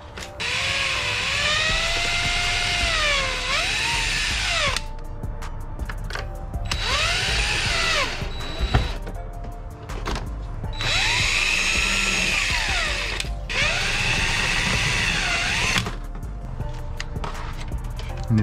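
Power tool tightening fasteners on a carbon fiber splitter of a Dodge Charger Scat Pack widebody, several short whirring bursts with pitch bending as each fastener seats, pauses between runs, close and clear.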